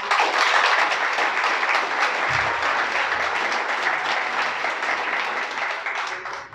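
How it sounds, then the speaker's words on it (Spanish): A church congregation breaks into steady, full applause during a sermon, loud and close, with crisp clapping sustained for over six seconds and no voices over it. "Dale un aplauso."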